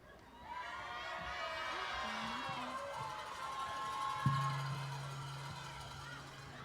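Crowd at the Choctaw Indian Princess Pageant cheering and shouting in an arena, with high, excited voices of a large audience at moderate distance and a sustained tone entering partway through.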